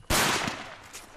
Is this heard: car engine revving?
no